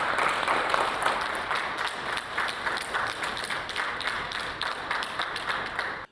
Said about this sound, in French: Le chef d'orchestre est applaudi à son arrivée par le Premier ministre et l'ensemble des membres du gouvernement